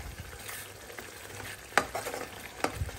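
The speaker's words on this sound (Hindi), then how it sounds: "ये देखो मसाला हमारा भुन रहा है अच्छे से" Masala spices roasting in a pan for a boiled potato and pea curry in a home kitchen, giving a soft steady sizzle with a few sharp clinks of a spoon stirring against the pan.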